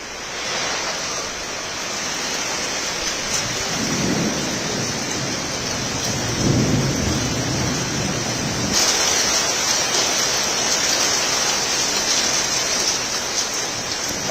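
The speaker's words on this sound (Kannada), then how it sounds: "ಈಗ ಆಲಿಕಲ್ಲು ಸಹಿತ ಧಾರಾಕಾರವಾಗಿ ಕಳೆದ ಅರ್ಧ ಗಂಟೆಗಳಿಂದಲೂ ಹೆಚ್ಚು ಕಾಲ ಭಾರಿ ಮಳೆ ಆಗ್ತಾ ಇದೆ" Heavy rain with hail pours down in Bengaluru near the Vidhana Soudha: a loud, dense, unbroken roar of downpour that swells slightly midway, with no voices.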